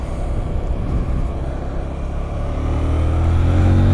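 A CFMOTO 800 NK Advanced motorcycle engine runs close by as a steady low drone that rises in pitch and loudness toward the end as it revs and accelerates.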